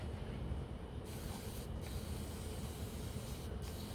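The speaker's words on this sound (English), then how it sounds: "just spray it off first with water" A steady, hissing spray of water from a sink sprayer runs continuously and close by, with slight changes in tone as the stream shifts.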